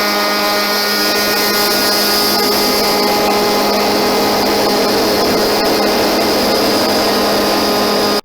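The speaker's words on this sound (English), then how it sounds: "take my sander, my palm sander, and sand this down on an angle to get rid of all that little fine stuff" A palm sander grinds steadily against old wood in a 1905 cottage restoration, a loud, constant motor whine with a dense buzzing texture that runs without pause, then cuts off abruptly at the end.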